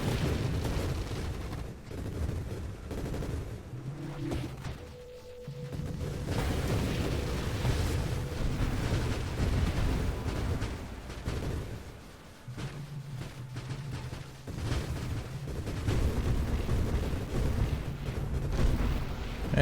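Spaceship cannons fire and explosions burst in the space shooter game Nova Drift, a dense, continuous barrage of booming blasts and rumbling impacts that swells and dips in loudness throughout.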